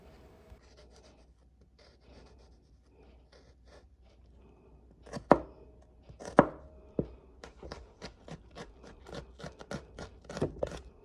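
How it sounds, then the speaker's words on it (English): A knife chops onions and garlic on a cutting board for tomato sauce: sparse quiet taps at first, then a run of sharp, rapid close-up chops. "I have chopped the onions,"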